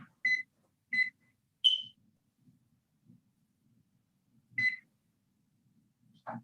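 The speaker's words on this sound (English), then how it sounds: "I'm going to set the timer for 15 minutes." Electronic kitchen timer, set while cookies bake in the oven, gives four short, bright beeps, three at one pitch and one slightly higher, spaced unevenly over a few seconds against a quiet room with faint low rumbles.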